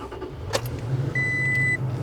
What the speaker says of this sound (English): We're gonna want to go ahead and turn the car on.